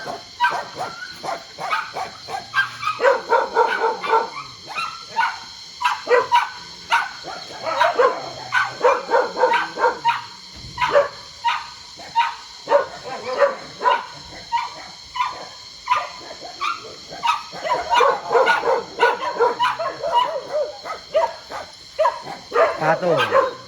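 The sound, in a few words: many rescued stray dogs barking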